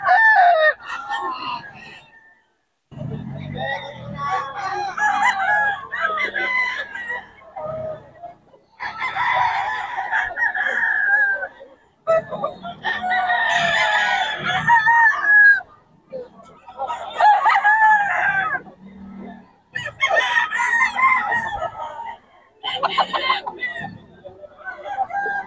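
Several roosters crow in repeated bursts, with clucking between, loud and close in a poultry yard, and someone speaks intermittently around the calls.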